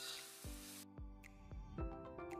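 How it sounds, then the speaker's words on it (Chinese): Minced garlic frying in a little oil in a wok over low heat, a soft steady sizzle with a few sharp clinks of a utensil against the pan, close by with no talking. "锅里留少许油，先炒蒜末"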